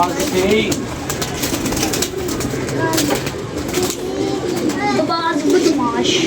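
Pigeons cooing in soft, repeated throaty calls, with people talking over them and the steady noise of birds close by.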